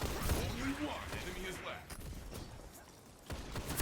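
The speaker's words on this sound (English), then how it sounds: "That was a nice shotgun shot from both my teammate and then theirs" Shotgun blasts in a Destiny Trials match, sharp bursts clustered near the start and again toward the end amid busy game noise, fairly loud and close.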